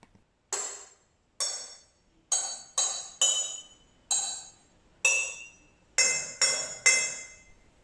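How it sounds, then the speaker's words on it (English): Tapping on a row of glass water bottles holding different amounts of water, ten bright pinging notes at varied pitches with short ringing tails, some struck in quick pairs, close and clear without speech. "your water bottle xylophone."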